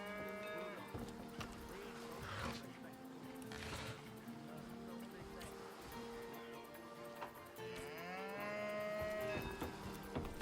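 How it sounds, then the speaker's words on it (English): Cattle mooing on a homestead in the Divinity Original Sin video game, long low lowing calls repeated under game music and ambient sound, with a voice talking over them. "sorry, cows."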